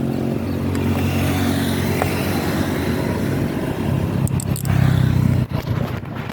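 A motorcycle engine while riding, a continuous low rumbling drone with passing wind rush, swelling louder and rougher toward the end with some buffeting.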